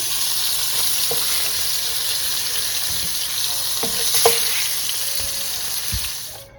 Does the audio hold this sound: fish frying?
yes